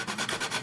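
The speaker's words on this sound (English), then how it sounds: "to do this I only use the medium and the fine sanding stick" Sanding a seam line on an F-14A Tomcat model kit with a medium or fine sanding stick: steady, close rhythmic scratchy rubbing strokes repeating several times a second, alone without talk.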